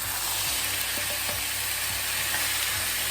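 Diced tomatoes sizzle loudly in a frying pan with chorizo and rice, making a dense, continuous hiss with a few soft stirring scrapes and no speech.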